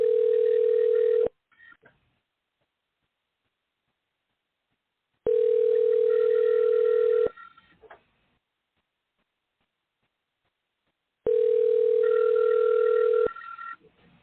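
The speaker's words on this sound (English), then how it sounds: "Should hear some ringing" A telephone ringback tone sounds three times, each long tone followed by several seconds of silence.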